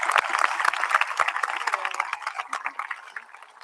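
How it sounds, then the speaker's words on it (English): Audience applause at a high school graduation ceremony, a steady wash of many hands clapping that fills the room and slowly tapers off, with no talking over it. "I would like to give our 2 advisors a round of applause for all the work they have done for us this"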